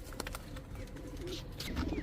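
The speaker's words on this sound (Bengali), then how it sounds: "চুইঠাল কালো দোবাস একটা নর কবুতর" A black Chuithal Dobas male pigeon coos in soft, low murmurs, faint against a noisy room background with no clear speech.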